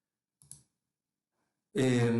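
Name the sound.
mouse clicking to place a resistor in circuit software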